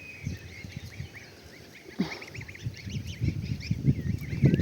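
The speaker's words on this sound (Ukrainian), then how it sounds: "гусь, гусь, гусь, гусь, гусь, гусь, чого кричиш?" Geese honk repeatedly in a busy flock, overlapping nasal calls rising and falling throughout, fairly close, with a louder burst near the end.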